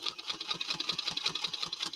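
Sewing machine stitching a quilt, a rapid, even mechanical chatter of needle strokes, close and steady throughout.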